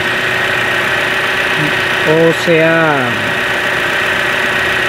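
A 2013 Chevrolet Captiva Sport idles steadily, suspected of a clogged exhaust or catalytic converter, with a loud constant engine hum while someone speaks Spanish over it.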